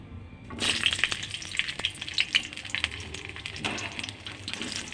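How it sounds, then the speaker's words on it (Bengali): Potato pieces sizzle and crackle in hot oil in a wok. The frying swells suddenly, then hisses steadily with scattered pops and a few faint clinks. "কড়াই তেল তেতে গেছে, আমি আলুগুলো ভেজে নেবো।"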